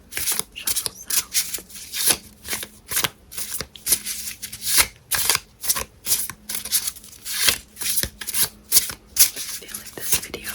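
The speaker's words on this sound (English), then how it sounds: "If I put more of these in my hand, I can shuffle them. For a nice shuffle sound." Magic: The Gathering trading cards are shuffled repeatedly up close, a quick rhythm of crisp riffling and flicking bursts with short pauses between.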